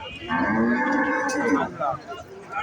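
A cow at a cattle market lets out one long, close, loud moo that tapers off near the end, with a little background noise after it.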